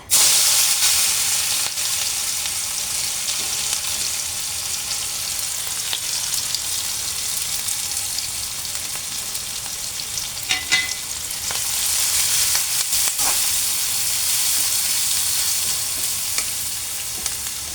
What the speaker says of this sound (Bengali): আমি এখন দিয়ে দেব এগুলো তেলের মধ্যে